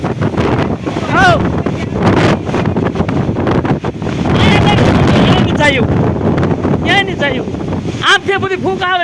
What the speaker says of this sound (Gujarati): 100 કિલોમીટરની ઝડપે પવન ફૂંકાઈ રહ્યો છે.